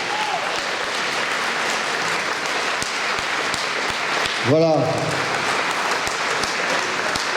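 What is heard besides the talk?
audience applause at Napoleon bicentenary dinner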